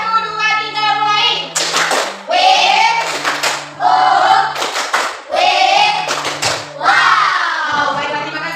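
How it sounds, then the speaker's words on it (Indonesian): A group of students claps out a rhythmic 'tepuk wow' cheer in a classroom, bursts of unison clapping alternating with chanted, sung-out voices of the group across the whole stretch. "kita berikan tepukan wow kepada kelompok auditori"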